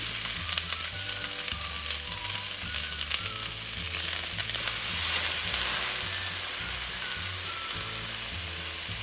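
Onion and cumin seeds frying in hot oil for a radish and turnip leaf stir-fry, a steady, close sizzle that holds throughout with a faint scrape of stirring and no voices.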